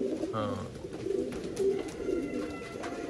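Pigeons kept for sale in Bangalore coo softly in low, rolling calls against steady background murmur, with a few other bird chirps and indistinct voices mixed in.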